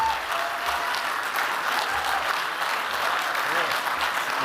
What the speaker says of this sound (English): Another round of applause for Senator Gladue.